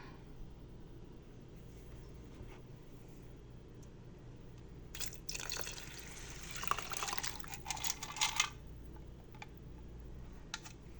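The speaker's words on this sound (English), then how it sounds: "I'm gonna put in a little bit more water." Water poured from a vessel into a pot of simmering lentil soup, a short liquid splash and trickle lasting a few seconds over a quiet kitchen background.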